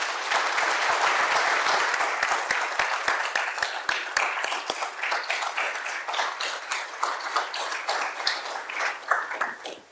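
Audience applause welcoming lecturer Cass Sunstein at a memorial lecture on campus free speech: dense, steady clapping from a large crowd that thins out into scattered claps toward the end.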